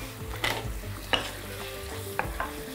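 Beef frying in a pan is stirred, giving a steady close sizzle broken by several scraping, clacking strokes of the spoon at uneven intervals, with no talking.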